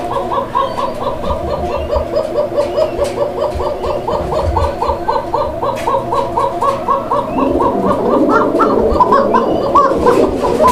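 A pair of domestic pigeons, male and female, coo together close by in a steady, repeating rhythm of soft throaty calls, continuous throughout with faint background noise.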